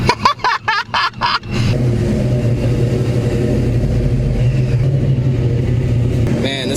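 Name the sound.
Mustang car engine starting and revving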